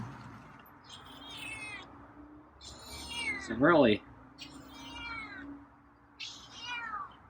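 A feral cat at a door meows four times in a row, mid-loud and fairly close, with a brief low voice between the second and third meows.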